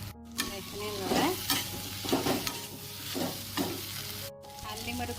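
Taro pieces frying in a pan with garam masala, stirred with a spoon, giving a loud, continuous sizzle broken by a few scraping strokes across the pan, close up and without voices.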